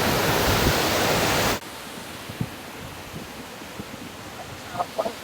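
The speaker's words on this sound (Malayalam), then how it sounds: "നല്ല ശക്തിയിലാണ് വെള്ളം വരുന്നത്." The Chooral waterfall in a forest rushes with great force, a loud, dense roar of falling water that cuts off abruptly after about a second and a half, leaving quieter ambience.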